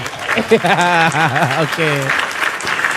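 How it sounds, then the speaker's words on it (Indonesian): A crowd claps for Coach Andang at a talk-show style event, a steady patter of applause running underneath while a voice speaks loudly over it. "Jadi kita berikan tepuk tangan untuk Coach Andang"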